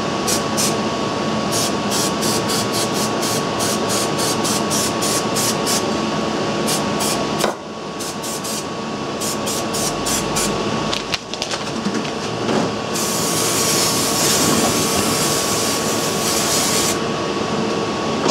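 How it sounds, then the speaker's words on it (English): A sustained hiss of aerosol adhesive sprayed onto horse hair padding for Triumph Spitfire seat recovering, running almost continuously, with short rhythmic ticking and a steady hum underneath, close and loud. "Just spraying the horse hair."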